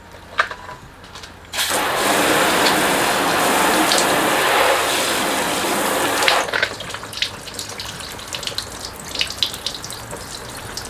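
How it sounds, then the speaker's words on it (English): A hose nozzle floods a car panel with water during a sealant test, a loud, steady gushing spray lasting about five seconds before cutting off, followed by faint dripping and splashing. "I might switch over to my hose nozzle and we'll try and flood the panel"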